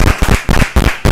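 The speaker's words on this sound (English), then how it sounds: "I feel like I need to clap." Sharp, loud claps close to the microphone at a meeting, about five heavy bursts in a quick uneven rhythm, each a dense slap of sound with short gaps between.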